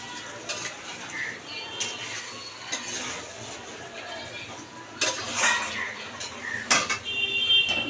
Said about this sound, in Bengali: তাই জন্য এই কড়াই বসিয়ে দিলাম